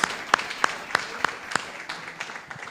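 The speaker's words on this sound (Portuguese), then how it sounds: "uma salva de palmas a Ele" A church congregation gives applause of praise to the Holy Spirit, with sharp, evenly spaced claps about every third of a second that fade toward the end.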